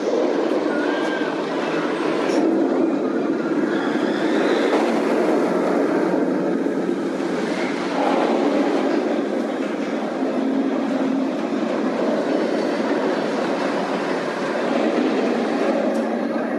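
The Medusa roller coaster at Six Flags Great Adventure, heard as a continuous loud rumble and clatter of the train running along the track for the whole stretch.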